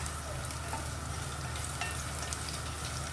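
Garlic sizzles and fries in hot oil in a pan while being stirred for homemade chicken rice, a steady close crackle with occasional scrape of the spoon, no talking.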